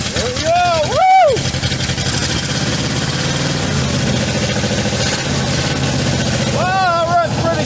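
An old engine, freshly revived after timing adjustments, runs loud and steady at close range, a continuous rough idle that swells slightly in places, with voices speaking over it.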